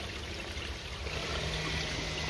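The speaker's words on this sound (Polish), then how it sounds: "Zobaczcie, co tu się dzieje po włączeniu filtra." Garden pond filter started up after winter, water flowing and trickling steadily at low level, continuous and close with no talk.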